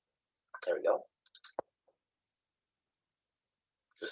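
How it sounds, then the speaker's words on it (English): A few quick computer mouse clicks while browsing issues on a desk setup, short isolated ticks between brief murmured speech and quiet gaps. "Just clicking on issues here for a moment."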